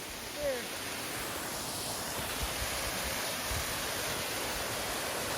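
Waterfall on Taylor Creek, a steady broadband rush of falling water, moderately distant and constant with no break, with faint wind underneath.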